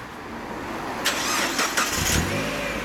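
Mazda Roadster NA8C (MX-5) starting up: a broadband starter crank and catch at about one second, then a few short revs before settling into a steady, moderately loud idle over a constant background hum.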